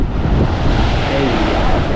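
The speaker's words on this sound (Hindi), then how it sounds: "देखिए कितना तेज़ से हिलकोरा मार रहा है समुद्र" Sea waves surge onto a Dubai beach with a loud, broad wash, heavily buffeted by wind rumbling against the microphone. The surf roars steadily, with no separate breaks.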